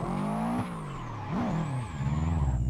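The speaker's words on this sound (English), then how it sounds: "And this is a newly rear-wheel drive converted Subaru." A rear-wheel-drive converted Subaru engine in GTA 4 drones and revs in a steady, rough tone, pitch dipping and climbing with throttle changes, loud and close with no talk over it.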